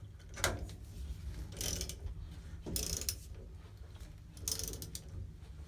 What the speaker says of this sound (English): Get the ratchet first.